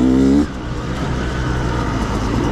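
A Beta 200RR two-stroke dirt bike engine revs close and loud in the desert, starting with a brief tonal whine that drops into a steady, gritty engine drone.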